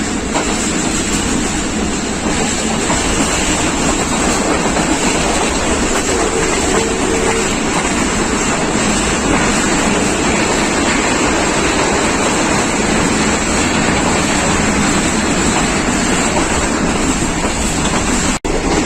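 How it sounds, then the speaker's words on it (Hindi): Rawal Express of Pakistan Railways crossing the Jhelum river bridge at high speed, heard as a loud, steady rush of train noise and rumble lasting throughout. "ज़बरदस्त स्पीड में झेलम क्रॉस कर रही है रावल एक्सप्रेस।"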